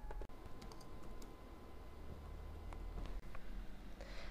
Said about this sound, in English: You then type in your answer and agree by clicking on your names.